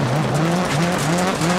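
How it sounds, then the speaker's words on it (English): A rallycross car squeals its tires through a corner, with a loud, continuous wavering screech over engine roar, close up. "A little bit of tire peeling"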